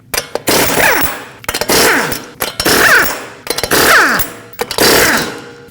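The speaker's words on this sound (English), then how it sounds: "you're going to use a 21mm socket to remove all 5 lug nuts and then remove the wheel" Five loud bursts of a power impact wrench loosening the wheel lug nuts on a 2020-2027 Toyota Corolla with a 21mm socket, each rattling hammer run separated by short pauses.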